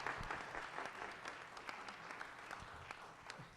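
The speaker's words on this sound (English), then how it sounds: "Big round of applause for our elementary students for the Energy Bus." Faint, distant applause from a school board meeting audience honoring elementary students, a soft, even wash of clapping that continues throughout.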